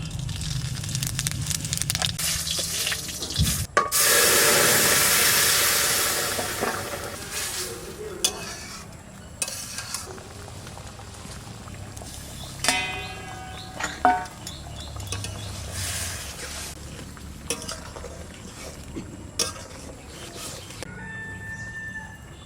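Dry red chillies and cumin seeds hit hot mustard oil while tempering a curry. A loud burst of sizzling and spattering fades into a low crackle, with stirring clinks and scrapes of the spoon and brief background sounds.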